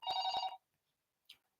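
A telephone bell rings in one short, close burst of two or three quick pulses, followed by near silence with a faint click near the end.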